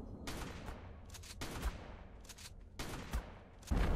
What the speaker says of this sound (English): They're shotgunning me from somewhere.